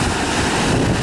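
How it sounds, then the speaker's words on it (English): Rough river water rushes on a windy spring day, a dense, loud, unbroken roar mixed with wind buffeting the microphone, filling the whole short moment. "a rough river like this."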